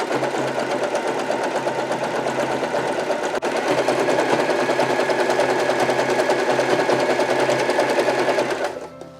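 A Janome 311 sewing machine stitches zigzag on stretch fabric, a steady fast rattling hum running continuously for about eight seconds up close before stopping.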